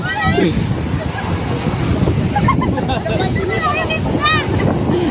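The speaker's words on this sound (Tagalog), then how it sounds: "Nasagwa ka ng alon." Crashing ocean surf and strong wind roar continuously, with people shouting and whooping nearby over the waves.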